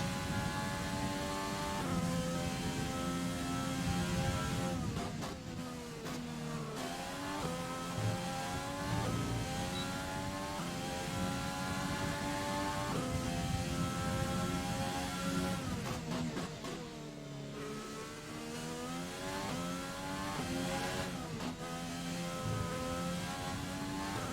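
Simulated Formula 1 race car engine from the F1 2020 video game, Australian Grand Prix qualifying, screaming loudly and continuously with rising and falling revs through gear shifts, steady and close with no talk.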